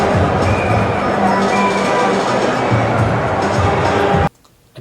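Steady crowd buzz from spectators at a cricket match in Barbados, a dense, even murmur of many voices that holds loudly throughout and then cuts off abruptly near the end.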